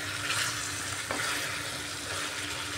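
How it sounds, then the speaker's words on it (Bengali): Bottle gourd and chicken sauté in a pan, giving a soft, steady sizzle with a faint stir or scrape partway through. The sizzle stays quiet and continuous, and no one speaks. "এইভাবে লাউটা দিয়ে একটু ভালো করে কষিয়ে নিচ্ছি।"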